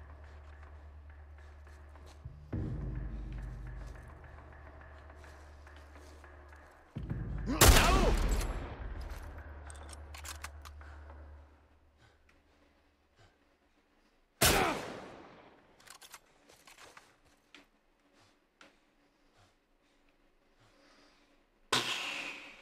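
Gunfire aimed at the player in the video game The Last of Us Part I: a few sharp, loud shots and bursts stand out against a low, rumbling game ambience, with quieter gaps between them.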